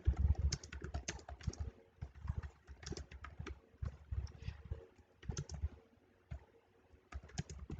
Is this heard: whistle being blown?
no